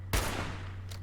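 Gunfire in the video game Fallout 76: one sharp, loud shot cracks in near the start and its broad blast trails off into a decaying rumble, with a fainter burst at the very end.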